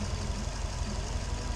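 A Subaru RallyXT engine idles in a short, steady stretch with an even low rumble, heard close with no voices.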